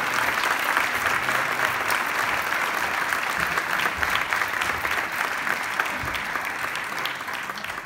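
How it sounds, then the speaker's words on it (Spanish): A ceremony audience in Monóvar breaks into sustained, even applause to welcome a speaker at a medal presentation, a dense wash of clapping from many hands that holds steady throughout. "Les pido un aplauso de bienvenida para don José Fernández Lozano"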